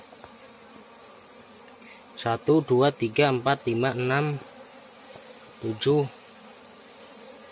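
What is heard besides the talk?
honey bees buzzing during honey harvest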